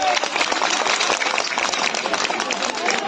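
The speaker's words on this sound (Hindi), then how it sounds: "जोरदार ताली बजाकर रवि जी को बताओ" Audience applause at an election rally in Delhi, a dense, steady wash of clapping and crowd noise filling the whole span without pause.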